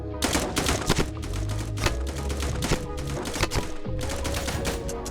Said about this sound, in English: I'm hitting these long range shots like it's nothing.